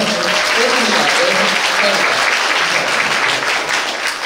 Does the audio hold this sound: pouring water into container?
no